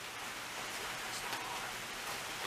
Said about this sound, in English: Oh my god, you guys, it's raining.